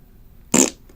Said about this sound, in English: Insert fart sound here.